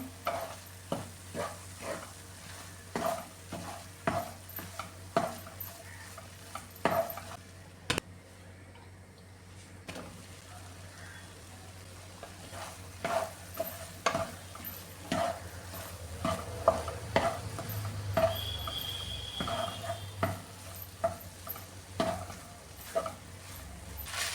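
Broken wheat upma is stirred in a pan on the stove, with a spoon scraping and tapping in irregular knocks over a faint, low sizzle, close and fairly quiet.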